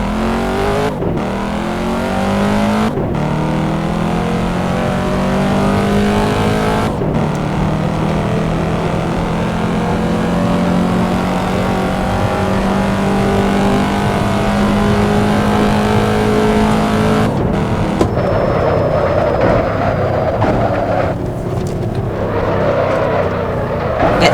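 Assetto Corsa race car with a V8 engine accelerating hard, its loud engine note rising through several gear changes with brief dips between shifts, continuous and close with no talk.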